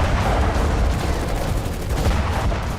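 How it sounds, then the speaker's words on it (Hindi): A dense, continuous roar of gunfire and explosions from a missile attack in the Russia–Ukraine war, loud and sustained, with rapid bursts blending into one another. "रूस की मिसाइलें आग उगल रही हैं।"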